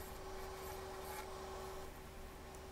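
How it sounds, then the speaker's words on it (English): A Carter & Son skew chisel cuts the foot of a walnut salad bowl spinning on a wood lathe, giving a steady close rasping scrape over a constant motor hum for a few seconds. "I am going to be turning a mortise and a foot. Carter & Son's skew chisel here."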